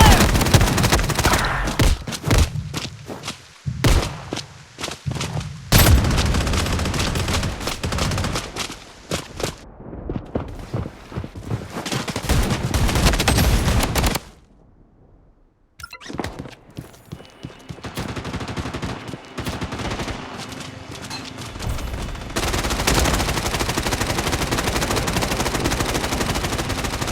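Rapid automatic gunfire in the shooter game Blood Strike, loud bursts and sustained volleys with brief pauses and one near-silent gap, over game effects.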